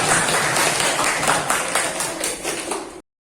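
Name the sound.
applause for group 2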